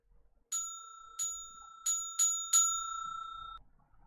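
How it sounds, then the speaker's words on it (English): A bell rings five times in a fangame, in bright, sharp dings at uneven intervals; the final ring sustains and fades, with no voices. "Even the bell noise is so irritating."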